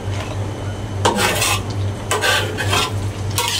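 A spoon stirs dried tamarind slices into blended spice paste sautéing in a pan for chicken cooked in coriander coconut gravy, with a steady low sizzle and a few louder scraping strokes against the pan.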